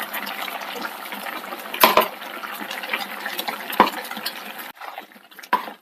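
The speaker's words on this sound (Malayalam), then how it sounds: "നമുക്ക് ഇതിനകത്ത് കുറച്ച് വെള്ളം കൂടെ ചേർക്കാം" Water is poured into a thick white chickpea curry in a pot, a close splashing and trickling pour with a couple of sharp clinks of a utensil against the vessel, fading near the end.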